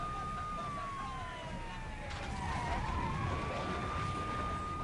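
A vehicle siren in the video game Saints Row: The Third wails in a continuous rising and falling tone over engine rumble and tyre noise, loud and close.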